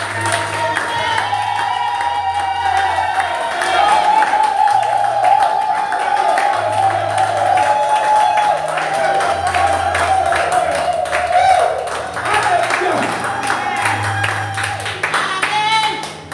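A church congregation claps and cheers in praise of the Lord, steady rhythmic applause and crowd voices filling the room beneath a loud amplified preacher speaking in French.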